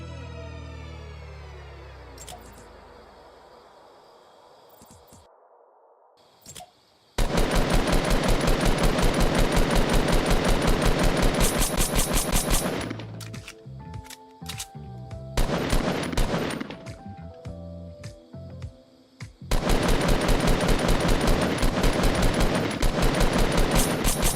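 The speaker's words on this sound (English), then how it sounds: "This weapon also uses the Razorblade assault rifle's model from Save the World and the Battle Royale version of the assault rifle sounds." Sustained automatic fire from a scrapped Fortnite assault rifle built on Battle Royale assault rifle sounds, in long loud bursts with brief pauses and a quieter shot sequence midway, following a fading low mechanical whine at the start.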